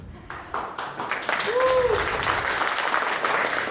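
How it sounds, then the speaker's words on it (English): Applause from the audience at the 8th annual Startup St. Bernard pitch event, with clapping that swells and holds steady, and a voice briefly audible over it. "Yes, give them a round of applause."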